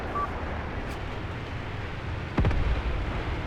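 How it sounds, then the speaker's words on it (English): Distant enemy guns in the Graviteam Tactics war game: a single muffled boom rolls in over a windy, rumbling field ambience, faint at first and then swelling briefly before fading back into the background. "More enemy guns in the distance."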